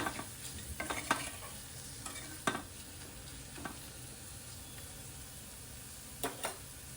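Soaked chana dal is sautéed in a pan for a spiny gourd vegetable dish, giving a soft continuous sizzle with a few scattered spoon scrapes and clicks, close but fairly quiet, with no talking.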